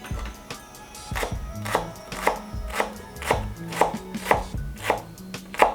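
A knife mincing fresh ginger on a cutting board for a chicken teriyaki sandwich, with steady, loud, close chops repeating in an even rhythm, each cut landing crisply on the board.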